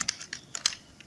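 A computer keyboard is typed on in a short burst of about eight quick, irregular, crisp key clicks, close up and with no talking.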